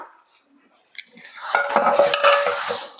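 Metal clatter and clinking of a pressure cooker and its parts being handled, starting after a brief quiet, with scraping and knocking close by.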